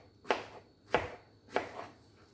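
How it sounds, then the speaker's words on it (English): A knife slices through peeled plantains on a cutting board, three evenly spaced, crisp cuts that land close and clear, each with a short thud, alone and without talk. "so now you want to cut them"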